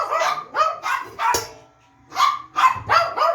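Hungry pet dogs bark eagerly at feeding time, several sharp close barks in quick bursts with a brief pause midway, no talk over them.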